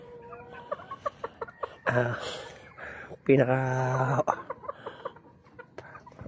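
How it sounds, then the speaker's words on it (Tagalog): Hens cluck in short repeated bursts, with a couple of louder, longer squawking calls nearby, and a person's voice briefly in between. "Siraulo talaga itong mga inahin na to."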